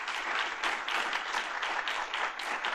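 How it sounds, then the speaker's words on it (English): An audience applauds at the close of a panel discussion at a campus entrepreneurship event, a dense, steady wash of many hands clapping together, fairly close and sustained with no voices. "Please give the panel here a round of applause."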